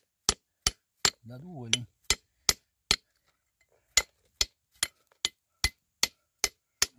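Sharp metallic hammer strikes crack against a stone, about fourteen evenly spaced blows landing close and loud, with a short spoken warning between them and a pause midway.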